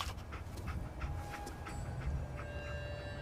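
Dogmeat, the dog companion in Fallout 4, pants softly and rhythmically at close range, with quick breathy puffs over a low ambient drone.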